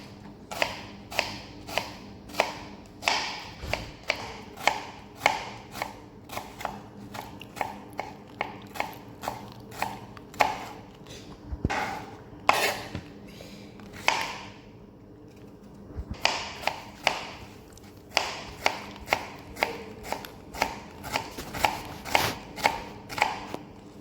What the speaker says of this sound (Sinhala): ටික සුද්ධ කරගෙන මේ විදිහට දිගට කපා ගන්න.